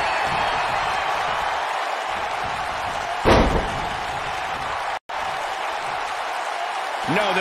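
A wrestling crowd in a Minneapolis arena keeps up a loud, steady roar throughout, with one heavy slam thudding midway and a brief break in the sound shortly after.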